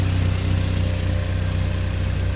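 A turbocharged Honda Civic with a custom exhaust idles with a deep, steady burble and pulsing low rumble, loud and close.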